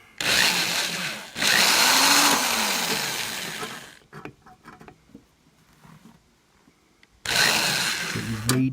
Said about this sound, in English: World's dullest drill bit.